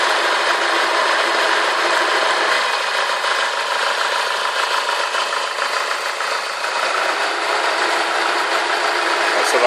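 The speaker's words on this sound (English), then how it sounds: "So that's the air conditioning you can hear there." A Honda Civic idles with its air conditioning running, a steady broadband whir and hum that stays level and close throughout, with a faint rattle underneath.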